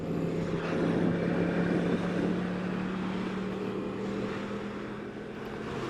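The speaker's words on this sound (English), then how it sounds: "nothing but the smooth sounds of the cross-plane 998cc Yamaha R1 in a 2018 edition." A 2018 Yamaha R1 with a cross-plane 998cc engine runs steadily, a smooth sustained hum with a steady tone that swells slightly then settles, moderately loud, no talk.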